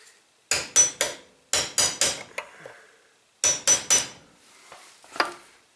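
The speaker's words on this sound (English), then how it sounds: "Hammer this guy down just a little bit more." Hammer blows drive small retaining clips down on an EVAP system part of a Nissan Rogue: sharp metallic strikes come in quick clusters of two or three with pauses between them, close and loud, with no talking.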